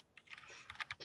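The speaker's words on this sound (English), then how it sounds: "Why are you typing?" Quick, light clicking of computer keyboard keys during a Minecraft session, a rapid irregular patter of keystrokes, close and soft.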